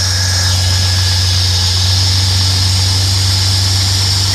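A Bedford CF van idles steadily after a new fuel pump has been fitted. The engine gives a close, continuous low drone with a faint higher whine over it, and no voices are heard.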